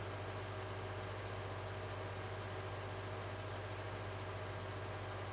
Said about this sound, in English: It's a bit of a long drive with the tractor, because it only does 19 miles an hour.